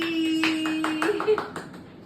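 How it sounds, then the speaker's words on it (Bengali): Several people clap together at a family birthday celebration, right after the cake is cut; a short burst of hand claps rises and fades over about two seconds, with a voice audible alongside. "হাততালি।"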